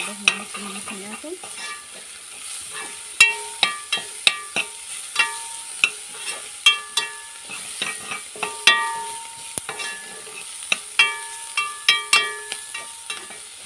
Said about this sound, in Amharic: ዘይቱን ከጨመርኩ በኋላ እንደዚህ ያደረኩ አሁን የተወሰነ ከድንና ጎመኑን እጨምራለሁ ማለት ነው